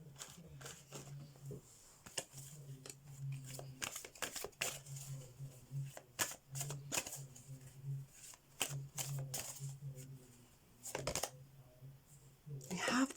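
A deck of oracle cards being shuffled by hand, with repeated soft riffling bursts and papery flicks in an irregular rhythm, close and quiet, under a faint steady hum.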